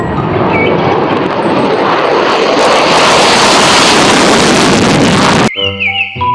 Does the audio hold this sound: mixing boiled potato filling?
no